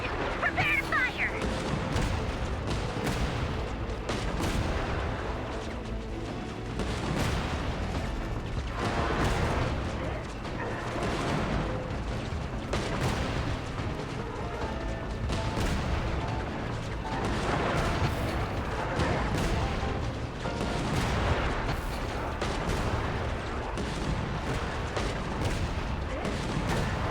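Cannon fire in a video game, dense booming blasts and crashes recurring throughout over a busy mechanical backdrop, loud and continuous with voices talking at points.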